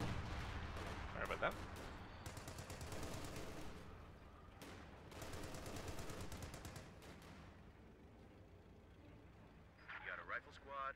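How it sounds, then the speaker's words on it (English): Howitzer artillery fire in the World War II strategy game Company of Heroes 2, heavy booming shots and rumbling battle noise running beneath continuous commentary. "Howitzer taking some shots at the pack gun."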